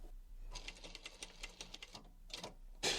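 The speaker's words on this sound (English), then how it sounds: "So I'm just going to do a couple of stitches." A sewing machine runs a couple of short stitch sequences through upholstery fabric for a box cushion cover, a close, quiet rhythmic ticking in quick bursts, ending with a brief louder clunk.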